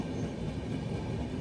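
The Flying Ranee Express rolls between Surat and Mumbai near Sachin station, a loud, steady rumble of carriages and wheels on the track that holds unbroken throughout, with no voices.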